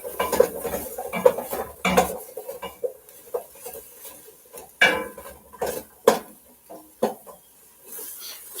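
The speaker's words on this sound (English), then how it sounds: "we're going to cook the onion until soft" Onions cooking in a pan over medium-high heat, with a utensil clinking and scraping against the metal in irregular bursts, close up, with little or no sizzle coming through.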